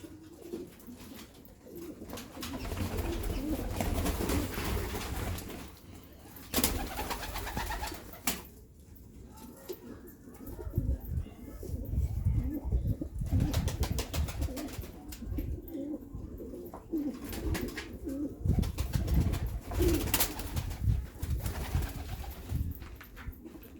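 Pigeons coo over and over in a soft, low, throaty rhythm, close by, mixed with wing flutters and rustling in the coop, and no voices.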